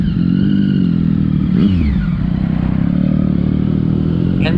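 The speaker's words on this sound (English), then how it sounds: "And this biker group is leaving." Several motorcycles of a departing biker group rumble steadily nearby, a continuous engine drone with a brief rising rev pass partway through, no voices present.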